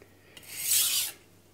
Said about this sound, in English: when you do regular maintenance on your knife, you don't have to spend too much time sharpening it